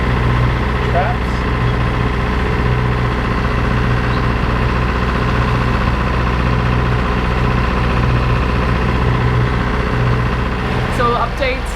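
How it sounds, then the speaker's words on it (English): Boat engines run at a steady idle across the water, a continuous low droning hum with a faint rhythmic throb, constant in level throughout with no change in pace. "Okay, he started up his engines."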